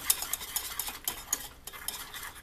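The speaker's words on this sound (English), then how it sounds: "go ahead and mix that all together really well" Spoon stirring cinnamon into white hot chocolate, a quick run of light clinks and scrapes against the cup, close and fairly soft, with no voices.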